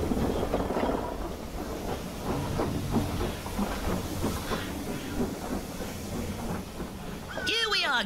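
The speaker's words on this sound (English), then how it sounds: "Quickly, get on the train." A video game train runs along rails with a steady rumbling, rhythmic clickety-clack and hiss throughout, fairly loud and continuous, with a brief whooshing sweep near the end.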